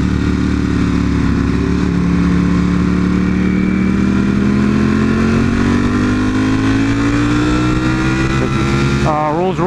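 A Bentley and a Porsche accelerate nearby, producing a loud, continuous engine roar whose pitch climbs steadily over several seconds, close and dominant throughout.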